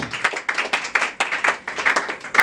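A church congregation applauding during a French-language worship service, with brisk, fairly loud clapping that comes in rhythmic, pulsing bursts, heard alone without speech.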